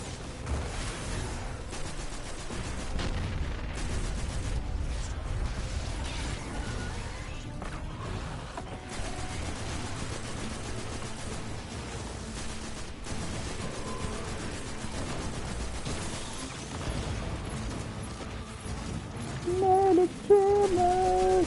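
Rocket launcher fire in Destiny 2 with dense, continuous blasts and crashing impacts throughout, a rumbling low-heavy barrage that stays loud with no pauses.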